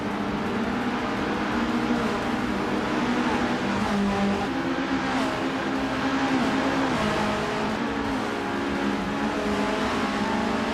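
A 1978 Metal XMTX 103C race car engine in a racing video game, droning and revving continuously with shifting pitch as it pushes around the track, loud and unbroken, no talk.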